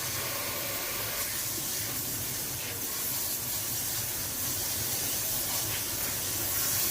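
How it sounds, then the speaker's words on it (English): Cold tap water running over cooked pasta noodles in a strainer: a constant, fairly faint hissing spray that stays even throughout, with no talking. "Use a little bit of cold water on these noodles."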